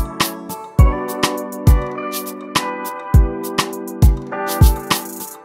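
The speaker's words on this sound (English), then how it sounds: "I only bring in the kick once I've done all the other percussive sounds" An afrobeat groove built in Logic Pro X, with a punchy kick drum landing under layered percussion and sustained synth chords, steady and rhythmic, with no voices.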